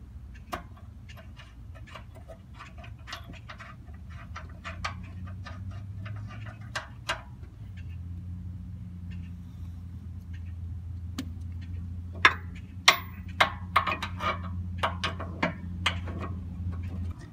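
Ratchet wrench clicking in rapid bursts while loosening sway bar bushing bolts on a 1999-2004 Ford Mustang, crisp close ticks over a low steady hum, with a few louder metallic knocks near the end and no talking.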